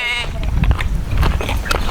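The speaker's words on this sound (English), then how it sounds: "I'm going to feed our precious sheep over here." A sheep bleats once, close and clear, at feeding time in a barn. The bleat is followed by nearby shuffling and rustling from the livestock.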